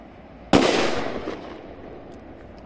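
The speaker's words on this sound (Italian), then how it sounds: "Devo dire che sembra un ottimo petardo." A Falco firecracker by Pirotecnica ARPI goes off with one sharp, loud bang, followed by a rolling decay that fades over about two seconds, with no talking.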